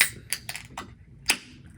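A sharp metallic crack and hiss as a can or bottle of Hailstorm Brewing Dominatrix Triple IPA is opened, with a few small clicks and taps before it, close and fairly quiet.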